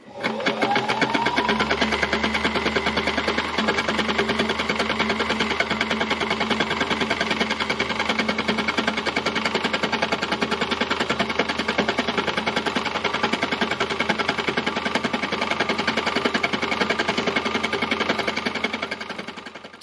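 An embellishing machine drives its needles rapidly up and down through fabric, a loud, steady mechanical buzzing clatter that starts up and runs evenly for about twenty seconds close to the listener, with no talking.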